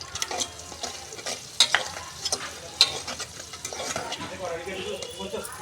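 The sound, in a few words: small fish pieces frying in a pan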